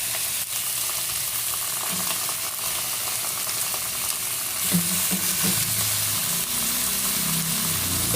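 Galunggong fish fry in a pan for adobo with a steady, dense sizzle and crackle throughout, interrupted by occasional soft stirring and scraping sounds.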